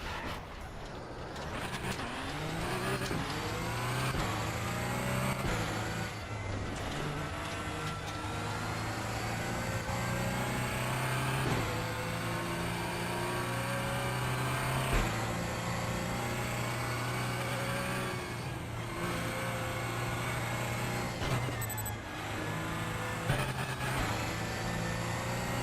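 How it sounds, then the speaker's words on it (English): Race car engine in the RaceRoom racing game, a sustained loud mechanical drone with shifting harmonic pitch as it revs up and down, heard alone across the whole stretch. "This car doesn't sound very good, I'll say that."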